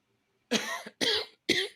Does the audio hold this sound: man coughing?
yes